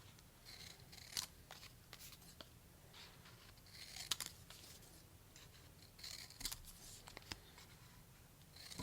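Scissors cut out paper game pieces for a St. Patrick's Day craft board game, giving quiet, close, irregular snips with soft paper rustling in between.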